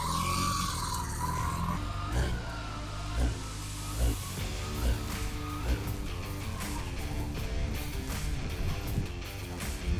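A 1982 Honda Nighthawk motorcycle engine runs steadily up close on a roadside after being flooded, with an uneven idle and a few louder blips of throttle along the way.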